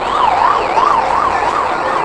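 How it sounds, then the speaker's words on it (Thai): A police car siren wails loudly and close, its pitch rising and falling in a steady repeating cycle roughly every third of a second, heard alone without voices. "อ๋อรถตำรวจ"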